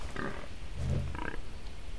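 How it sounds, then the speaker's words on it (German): Short close grunts from a wild boar in the video game Far Cry 3, two or three rough bursts within two seconds, fairly quiet and with no speech. "Ich höre ein Schwein, ich höre ein Schwein."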